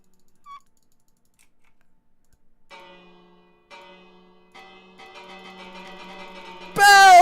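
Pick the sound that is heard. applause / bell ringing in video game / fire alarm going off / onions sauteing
bell ringing in video game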